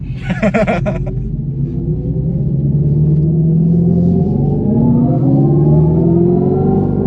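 Dodge Charger Scat Pack V8 accelerating hard from a short start, a deep rumbling growl rising steadily in pitch over several seconds, loud and close from inside the car.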